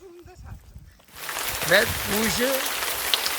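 Rain falls steadily in the forest on El Hierro, a broad hiss that starts suddenly and then holds, with a voice sounding faintly over it.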